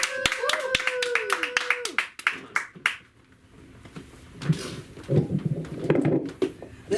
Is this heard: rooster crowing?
no